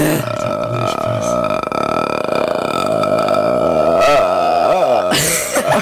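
A long, loud, drawn-out burp sits close to the microphone, rumbling and croaking with a shifting pitch, followed by a short, rougher burst at the end.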